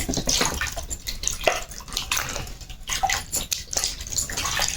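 Pieces of ash gourd being washed in water in a home kitchen while making murabba, with continuous sloshing, splashing and trickling water throughout.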